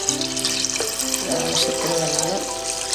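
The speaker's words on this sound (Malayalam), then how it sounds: "നമുക്ക് കുറച്ച് വെള്ളം ഒഴിക്കാം കേട്ടോ." Water pours into a hot pan while payasam is being made, a continuous splashing gush with hissing, close and steady, with a voice speaking over it.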